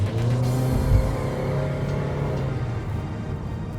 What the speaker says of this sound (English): the CVT is really loud under heavy acceleration